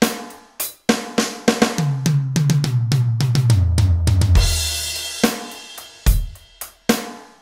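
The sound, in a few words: drum fill in 12/8 triplet feel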